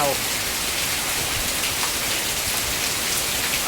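Heavy overnight rain pours down steadily over farm fields, a dense, unbroken hiss that stays loud and even throughout with no other sounds on top.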